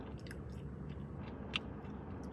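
Someone chews KFC French fries close to the microphone, a soft, moist mastication with faint crunches and one small crisp bite standing out against a low background hum.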